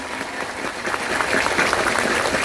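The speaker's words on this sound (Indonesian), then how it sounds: "Tepuk tangan untuk beliau." A crowd at a gathering claps for the introduced guest, Faisal Hamid Baidawi. The dense applause swells and stays steady to the end, with no voices over it.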